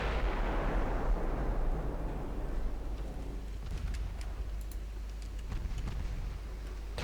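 Naval secondary guns fire in the warship game Ultimate Admiral Dreadnoughts: a heavy booming blast rolls out at the start, then scattered sharp distant reports and crackles pop across a rumbling battle backdrop.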